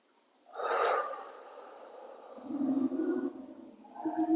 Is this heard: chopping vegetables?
no